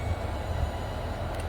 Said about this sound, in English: the train has just stopped there